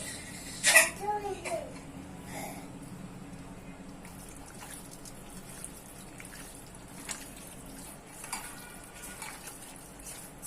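Masala being mixed into raw chicken pieces for pakodi in a bowl, with close, moist squelching and stirring noises, a louder clatter near the start, then softer intermittent mixing while someone speaks.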